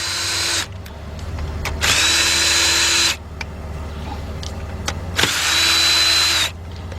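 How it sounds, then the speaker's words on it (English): A cordless drill spinning a 19mm half-inch drive socket to remove lug nuts on a 2002 Mercury Sable, with two loud whirring bursts separated by quieter clicks and rattles, close by and without talk. "I got a 19mm 1/2 inch drive socket with my cordless drill"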